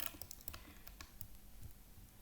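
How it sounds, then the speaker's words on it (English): Quick, light keystrokes on a computer keyboard tap out an irregular rhythm, faint and close, with no voices. "Press ESC on your keyboard."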